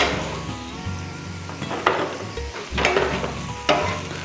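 Loose meat and broth sizzling and reducing on a Blackstone griddle, a steady close frying hiss broken by a few sharp scrapes and clinks of a metal spatula stirring, with no talk.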